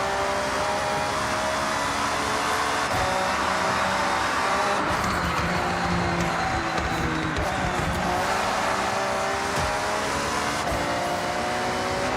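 A maxed-out AMG car races in the Forza Horizon driving game, its engine a loud, continuous high whine with tire noise that holds steady throughout, and faint talk sits underneath it.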